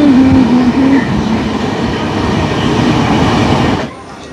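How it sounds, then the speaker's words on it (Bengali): The Howrah to Puri Dhauli Express races along at around 100 km/h, a loud, dense rolling roar of wheels and carriage with a brief tonal whine at first, before the noise drops suddenly near the end. "ট্রেন কিন্তু আবার 100 ছুঁয়ে ফেলেছে ডেলাং পার করতেই।"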